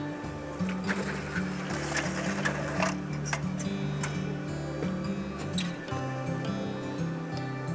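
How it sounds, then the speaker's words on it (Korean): An industrial sewing machine stitches steadily nearby, its motor humming in a rapid repetitive rhythm with clicking and mechanical clatter throughout. "이렇게 수동으로 할 수 있는 재봉입니다."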